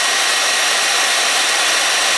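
A hair dryer running continuously, a steady loud rushing blow of hot air with an even hiss and no change in pitch, close to the microphone with no other sounds.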